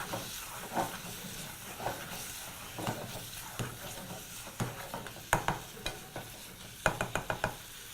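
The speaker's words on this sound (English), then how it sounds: "now proceed to cook the mixture at high heat. Proceed to mix together." Tomato and spice mixture for mutton biryani sizzling over high heat, a constant hiss of frying broken by repeated close scrapes and clacks of stirring against the pan.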